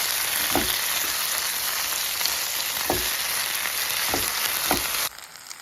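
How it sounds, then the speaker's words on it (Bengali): Ginger, garlic and tomato fry in a hot pan with a loud, steady sizzle, broken by a few sharp spatula clinks against the metal before the sound cuts off near the end. "এবার দেখুন এইভাবে ঠিক আদা রসুনটা আমার ভালোভাবে ভাজা হয়ে গেছে"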